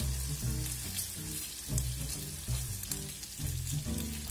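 Barbecue pork belly frying over low heat in a sugary sweet sauce, a steady sizzle and crackle running under a constant background music bed, with no one speaking.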